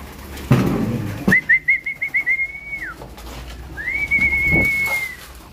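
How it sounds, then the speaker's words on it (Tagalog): Stock pigeons in a loft give soft, rhythmic coos, overlaid by two long, steady, high whistled tones with a quavering start, and no one speaks. "Dito naman tayo sa ating mga bugoy na stock bird."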